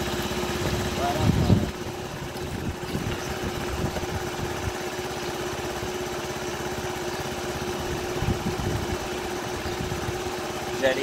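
A Kisbee scooter, kickstarted and showing about 4000 km, runs at a steady idle throughout, a constant light engine drone with a louder burst near the start as it catches.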